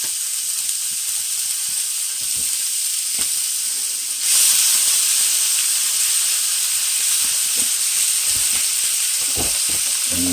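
Shallots sautéing in a pan, a loud continuous sizzle and hiss close up that swells brighter partway through, with faint stirring scrapes underneath and no voices.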